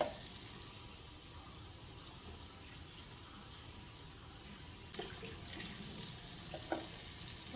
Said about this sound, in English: Give them a nice rinse first, and rinse them again.